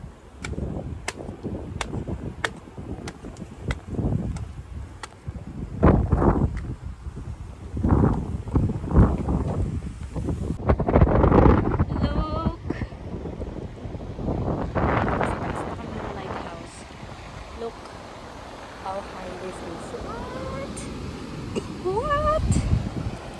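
Wind buffets the microphone in gusty rumbles on a boat at Baler, Aurora, with a person talking over it and a few scattered clicks.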